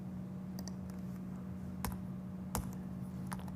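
A few sparse, faint key clicks from typing on a computer keyboard, spaced irregularly over a steady low electrical hum with no one talking.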